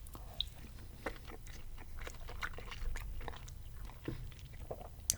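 Someone chewing seafood boil during a mukbang, close-up crunchy bites and wet mastication with irregular clicks and smacks, steady and fairly quiet with no talk.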